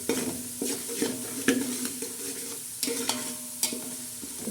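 Masala spices for a spicy chicken pulao frying and stirred in a hot pan with curry leaves, a steady crackling sizzle broken by repeated scrapes and stirring knocks, close and alone.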